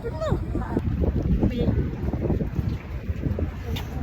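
Gusty wind buffets the microphone in rough, uneven bursts on a hot, windy day, heard close and fairly loud beneath people talking.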